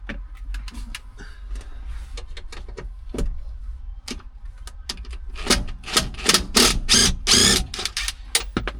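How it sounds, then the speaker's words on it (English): Screws are undone on a cover, producing irregular close clicks, taps and rattling scrapes that grow denser and louder toward the end, with no talking. "I think I've got to undo these screws, so I hope this is right."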